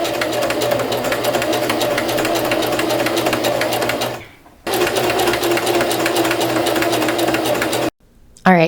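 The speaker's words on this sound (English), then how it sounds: "I just love the detail that this gives to a collar, and it's a great use for that stitch setting on your sewing machine" A sewing machine runs steadily and close up while stitching a decorative pattern along a dress collar, humming continuously with one brief pause midway before resuming and then stopping near the end.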